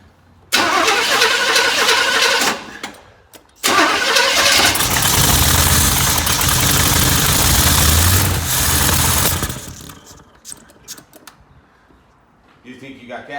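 A 1984 Chevy Blazer with a suspected fuel line problem cranks and fires, roaring loudly close by, cuts out, then restarts and runs strongly for several seconds before dying into quieter clatter.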